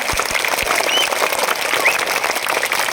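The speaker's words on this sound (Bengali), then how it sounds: "তালি দাও আনন্দে তালি দাও" A crowd clapping together in continuous, dense applause, loud and close, with no talking over it.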